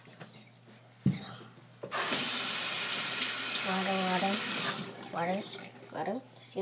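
Water gushes from a tap, probably into a container, as a loud, even rush lasting about three seconds. Children's and adults' voices come before and after it.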